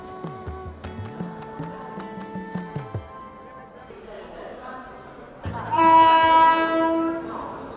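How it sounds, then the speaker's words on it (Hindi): A Rajdhani Express being drawn onto a station platform in India: train rumble and clanking mixed with crowd chatter, then a loud sustained horn blast near the end. "और यहाँ पे अपनी राजधानी एक्सप्रेस को प्लेटफॉर्म पे लगाया जा रहा है।"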